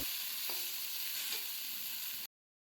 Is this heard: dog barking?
no